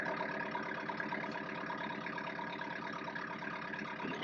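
A sailboat's engine drones steadily at moderate volume as it revs up, a continuous throbbing mechanical hum with no voices.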